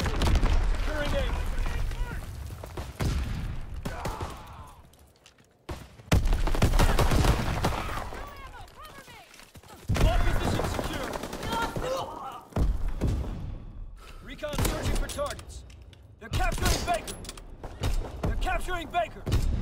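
Call of Duty battle audio with mortar rounds and gunfire: repeated heavy thuds and bursts of shots, mechanical clatter, near and loud, broken by brief lulls over about twenty seconds, with game voice lines mixed in.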